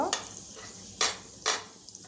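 Cumin seeds and asafoetida sizzle in hot oil in a pan, with a soft frying hiss broken by a few sharp bursts of stirring, close and fairly quiet.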